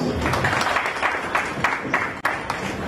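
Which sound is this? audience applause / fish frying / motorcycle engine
audience applause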